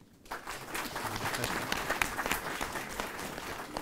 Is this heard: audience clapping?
yes